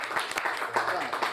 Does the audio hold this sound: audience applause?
yes